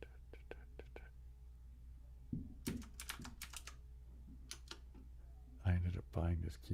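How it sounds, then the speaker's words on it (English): Clacky keystrokes on a mechanical keyboard, close and crisp, coming in short bursts and scattered taps with quiet pauses between, plus a few faint breathy murmurs. "people they claimed to like the sound of mechanical keyboards, so I bought a mechanical keyboard"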